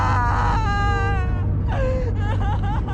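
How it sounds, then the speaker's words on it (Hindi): A woman's eerie, wavering wails and sobs rise and fall in drawn-out cries over a low rumbling background, loud and close, used as a horror sound effect. "ये तो किसी औरत के रोने की आवाज है यार"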